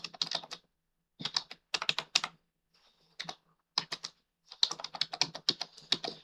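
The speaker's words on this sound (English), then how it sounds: "you can always type in your file name, whatever you want" Someone types on a computer keyboard in quick bursts of close, crisp key clicks, broken by short pauses, with nothing else audible.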